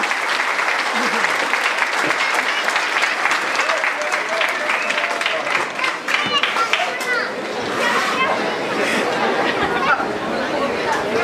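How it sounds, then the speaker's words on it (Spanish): Festive crowd at the Feria del Gabán in Charapan claps steadily for the Viejitos dance troupe from Jarácuaro, the applause mixed with lively chatter and children's voices throughout. "aplauso, por favor"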